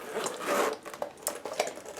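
A zipper on a makeup brush case is pulled in a few quick rasping strokes, close and clear, with small scrapes and pauses between pulls.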